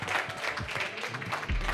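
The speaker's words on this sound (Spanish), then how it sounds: "un fuerte aplauso nuevamente para nuestros autores" An audience applauds the authors at a book presentation at the Guadalajara International Book Fair (FIL Guadalajara 2025), with dense, sustained clapping from a large crowd filling the room.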